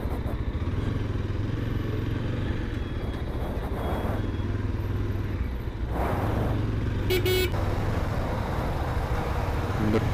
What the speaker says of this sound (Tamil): இந்த டிராஃபிக்லாம் ரொம்ப எரிச்சல் ஆகுதுங்க.